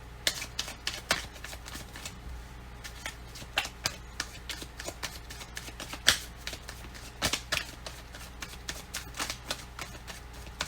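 A deck of cards being shuffled up close, with quick soft riffles and flicks in irregular bursts, fairly quiet with no talking.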